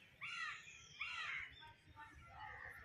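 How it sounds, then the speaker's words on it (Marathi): Several crows caw in harsh, repeated bursts, three clear calls fairly close by over a low steady rumble, with no talking. "कावळ्यांना मीच बोलवलंय पब्लिक दाखवायसाठी"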